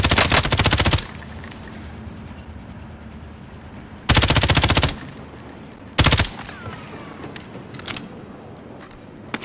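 Rapid automatic gunfire in a duo battle-royale match: three sharp, loud bursts of fast rattling shots separated by quieter stretches with faint distant pops.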